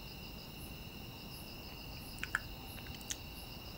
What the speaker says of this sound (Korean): 시골이라 귀뚜라미 소리가 장난 아니게 큰 거예요